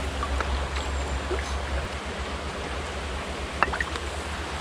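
Water flowing steadily in a fairly deep stretch of river, a continuous broadband rush heard close up with no talking, plus a brief knock or splash near the end.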